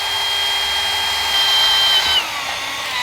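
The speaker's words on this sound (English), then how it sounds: "and drill through the bottom" A power drill fitted with a 3/16 bit bores through the bottom of a pool cover track, giving a loud, steady whining buzz for about two seconds before the pitch drops and the motor winds down.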